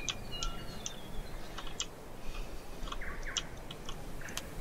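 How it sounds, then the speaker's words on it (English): Someone types on a newly acquired computer keyboard, producing a close stream of light, irregular key clicks with a few brighter taps against a hissy background, plus faint chirps resembling birdsong. "if you could hear my keyboard right now, it's because I got a different one"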